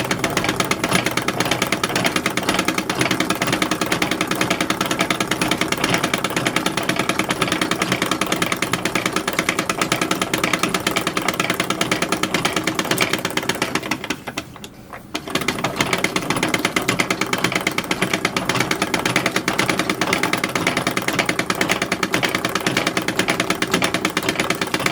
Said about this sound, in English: now I am sewing the backs and fronts together at the shoulder seams and at the side seams